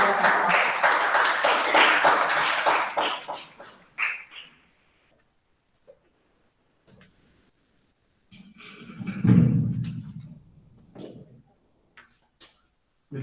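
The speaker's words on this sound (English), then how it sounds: "All are requested to please welcome him on the stage with a huge round of applause." Audience applause at a National Mathematics Day event, a dense round of clapping that welcomes a speaker onto the stage, fairly loud for about four seconds before dying away, followed by scattered faint knocks and a low murmur.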